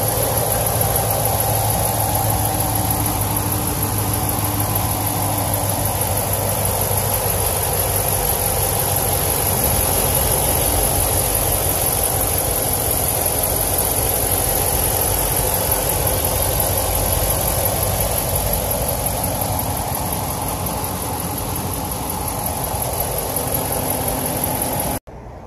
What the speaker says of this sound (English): here's a shot of the engine bay with the engine running.